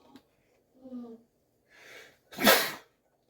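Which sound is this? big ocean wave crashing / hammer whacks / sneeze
sneeze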